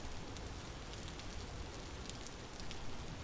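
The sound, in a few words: rain downpour in the video game Vintage Story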